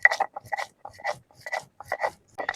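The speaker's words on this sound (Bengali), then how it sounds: "মশলা পাতি বেটে নেবো। মশলাই নিয়েছে ধই না জিরে।" Coriander and cumin being ground into paste, likely on a grinding stone: rhythmic rasping scrapes in quick strokes separated by short pauses, close and alone.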